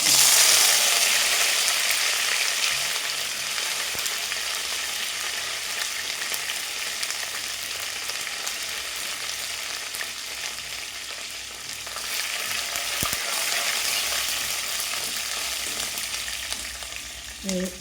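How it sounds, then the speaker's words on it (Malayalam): Mustard seeds and curry leaves sizzle and crackle steadily in hot oil, a loud, continuous frying hiss close by that swells again toward the end, with no one talking. "കടുക് പൊട്ടിയിട്ടുണ്ട് കുറച്ച് വേപ്പില"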